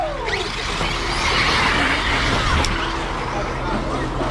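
A Tekno ET48 2.0 RC truggy on 6MIK rubber tyres drives around a corner, its motor whining steadily and loudly under excited commentary.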